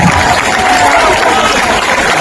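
Loud, dense crowd noise from a large outdoor audience at a Jan Suraaj Party political speech, a steady roar of clapping and voices filling the whole stretch without a break.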